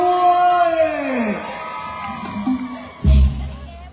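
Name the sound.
crowd screaming and clapping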